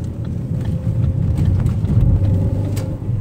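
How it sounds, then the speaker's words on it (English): A Subaru STI with a new exhaust and a bad tensioner driving off, producing a steady low engine rumble with wind buffeting, moderately loud and constant over a few seconds. "I'm not sure how you guys feel about his new exhaust, but I think it's the best his car has sounded yet."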